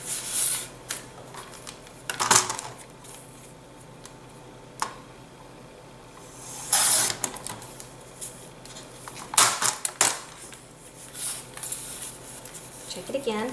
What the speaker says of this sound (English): so I'm just going to trim the bottom just a tiny bit